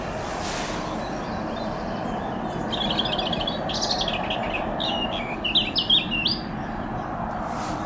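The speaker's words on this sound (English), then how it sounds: "the birds singing actually feels like spring" Birds chirp and trill in spring in quick bursts against a steady outdoor background by a lake, the song growing busier toward the end, moderately close.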